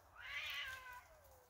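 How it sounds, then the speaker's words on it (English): Outdoors on a farm, a cat lets out one long, loud meowing wail that rises, then slowly falls away. It sounds fairly close, with no talk. "There's another cat fight."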